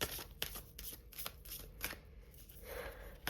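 Tarot cards shuffled in quick riffles and taps, a run of crisp papery bursts close by, with no voices.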